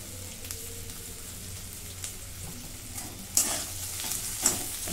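Red ghevda bean pods sautéing in a pan with spice powders, coriander-cumin powder, garam masala and salt: a soft steady sizzle with a couple of sharper scraping stirs near the end, no voices.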